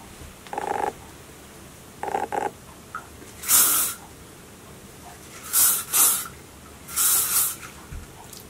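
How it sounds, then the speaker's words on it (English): Hairspray from an aerosol can misted onto hair tipped upside down, heard as several short hissing bursts, some in quick pairs, close and fairly loud against a quiet room. "just take your hairspray, tip your hair upside down,"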